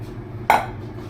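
A spoon scoops lump charcoal bits for a homemade PVC water filter, giving one short, close scraping clatter over quiet room noise.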